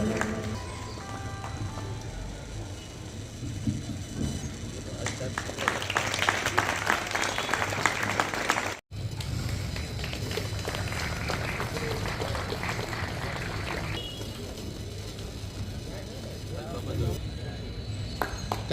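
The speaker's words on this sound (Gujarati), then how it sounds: "તાળીઓ ભાઈ." Applause from the crowd at a community felicitation ceremony in Diu, a sustained wash of many hands clapping that swells, cuts out briefly, then carries on steadily under some background voices.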